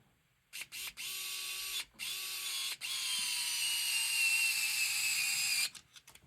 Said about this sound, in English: I did not charge my fancy dancy screwdriver, so hopefully that holds together for the duration here